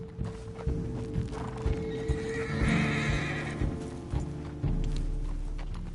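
Horse hooves clip-clopping at a steady walk in Red Dead Redemption 2, close and rhythmic, with a loud whinny in the middle and some rustling tack, no talk.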